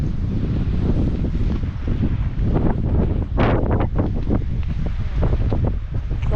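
Fierce wind buffets the microphone on an exposed mountain top, a loud continuous roar with rough gusty surges and no voices.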